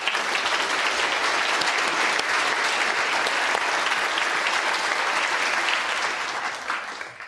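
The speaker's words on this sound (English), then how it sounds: "Zahn, big round of applause." An audience applauds a live stage demonstration of digestion and food science. The clapping is dense, loud and continuous, then thins and fades slightly at the very end.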